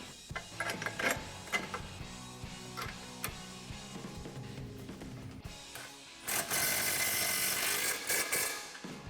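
An impact gun tightens rear suspension bolts on a 2005-2014 Mustang GT coupe during a Ford Performance handling pack install. Scattered close mechanical clicks and clatter lead into a loud, sustained rattling burst near the end.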